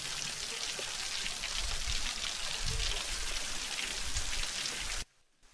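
Steady roaring rush of a waterfall near the Jwala Narasimha shrine at Ahobilam, loud and continuous, cutting off abruptly near the end.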